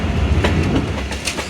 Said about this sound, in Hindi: उम्मीद है ये 2 डाउन खैबर मेल होगी, पेशावर और कराची के दरमियान चलने वाली